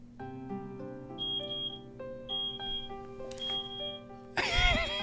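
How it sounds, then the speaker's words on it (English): A chime-like series of electronic tones signals a full bath tub in the visual novel 9-Nine, with steady sustained notes over light background music, ending in a brief noisy burst. "the beep notifies us that the tub is filled"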